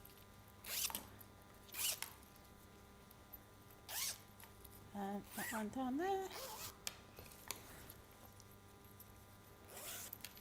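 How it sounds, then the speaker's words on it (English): A fabric zip is pulled in several quick, separate rasping strokes spread across the clip, each short and crisp, with a person speaking between them during a craft session. "I like the sound of a zip, don't you?"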